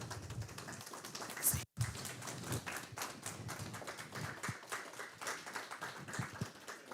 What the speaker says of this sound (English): let's give them a round of applause, because they all have a story